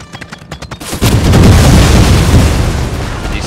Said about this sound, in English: Toss your grenades, boys.